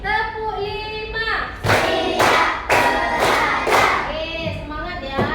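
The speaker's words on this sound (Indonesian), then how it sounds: "Ayo tepuk semangat lah, biar semangat." A class claps a counted spirit cheer together, about five loud, crisp group claps in a steady rhythm, framed by children's chanting voices.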